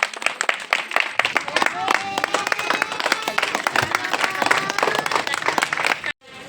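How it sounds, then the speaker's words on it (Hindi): Loud, sustained applause from a crowd at a school branch opening, dense rapid clapping that continues for several seconds before cutting off abruptly. "तालियां बजती रहनी चाहिए।"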